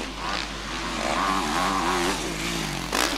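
MX1 motocross motorcycles race past at a Marinha das Ondas track. Engines whine and rise and fall in pitch as bikes go by, with one close pass mid-clip and another burst near the end.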